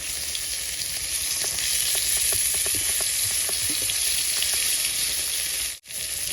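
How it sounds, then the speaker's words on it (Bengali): Koi fish fry in oil with a dense, loud, close sizzle, and small pops and crackles scatter through it. The sizzle cuts out for a moment near the end, and no one speaks. "তো এই যে দেখো মাছগুলো আমি উল্টে পাল্টে একদম লাল লাল করে ভেজে নিচ্ছি"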